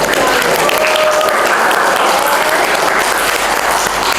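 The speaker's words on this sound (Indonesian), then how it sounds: "Beri tepuk tangan buat kita." Classroom applause from students during a school art lesson, a steady dense clapping that fills the whole stretch at a loud, close level.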